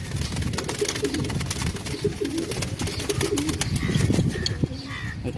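Racing pigeons on a breeding farm coo repeatedly in soft, throaty, overlapping calls close by, with light chirps mixed in and no one speaking.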